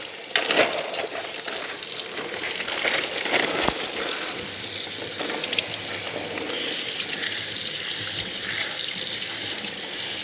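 Tap water gushes steadily into a sink while dry-cured bacon is rinsed to wash off the cure, a continuous close splashing stream with faint clinks.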